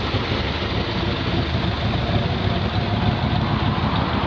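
A 1979 Chevrolet Corvette C3 with an aftermarket air intake idles with a steady, loud low rumble, the exhaust burble continuous and unbroken throughout.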